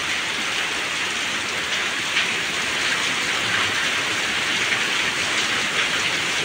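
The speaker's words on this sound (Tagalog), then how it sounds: "Ang lakas talaga ng ulan, no?" Heavy rain pours in a dense, constant hiss, loud and close, with no pauses and no voices.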